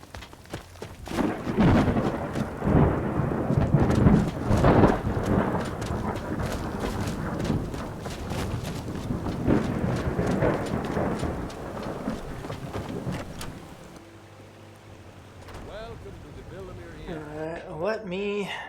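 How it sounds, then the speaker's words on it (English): Steady rain hiss in the video game Skyrim runs under continuous talking and game ambience, with a quieter, sparser stretch near the end. "And it's raining."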